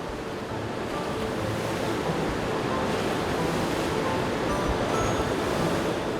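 Water in a ship-model towing tank churns as the carriage speeds over the waves, a loud continuous broadband rush with wind-like noise throughout and no pauses.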